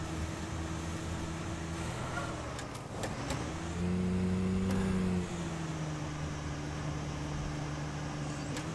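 Steady engine drone of a vehicle cruising at about 50 km/h in the fishing game Call of the Wild: The Angler, South Africa region, holding an even hum with a brief louder swell midway, no talking.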